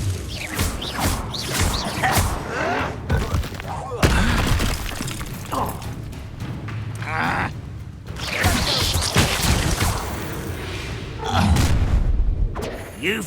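Confringo explosive spell in the Hogwarts Legacy video game, a series of loud blasts, crackling bursts and shattering impacts in a chaotic duel, with voices speaking between the hits.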